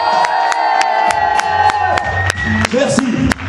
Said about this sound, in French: faites un maximum de bruit pour les frérots qui vont suivre